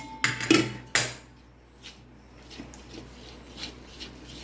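A spoon clinks against a bowl while khaman dhokla batter is stirred lump-free as water is added, with a few sharp metallic taps early on followed by softer, sparse scraping and knocks.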